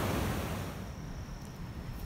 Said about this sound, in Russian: Это Атлантический океан.